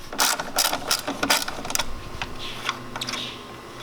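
Ratchet wrench loosening the 10mm headlight bolts on a 10th-gen Honda Civic, with a quick burst of sharp clicking pawl strokes at close range followed by sparser, softer clicks.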